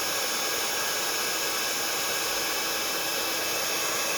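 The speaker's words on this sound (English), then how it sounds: "we'll just heat set this so that it is all lovely and embossed" Embossing heat tool blowing steadily over a card to set embossing powder on a holly-themed spinner card, a continuous broadband rushing hiss like a hair dryer held close, unbroken throughout.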